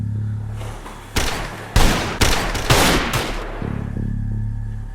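Several loud gunshots ring out in a tense film scene from the Jamaican movie Blue Devils, a burst of sharp bangs in quick succession over low background music, then the music carries on alone.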